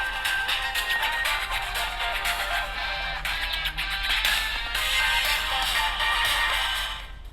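Music playing steadily from the speaker of a Redmi Note 12 phone, bright and sustained for about seven seconds, heard alone with no talk, fading slightly at the end.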